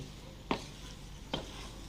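Two quick scraping strokes of a utensil against a pan, spaced apart, over a faint low background hum, as sticky rice in coconut milk is stirred.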